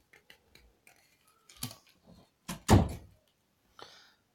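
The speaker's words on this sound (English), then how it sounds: "Shut my door." Several small clicks and knocks lead to a solid thud as a door is pushed shut at home, followed by a brief rattle, fairly close with no talk over it.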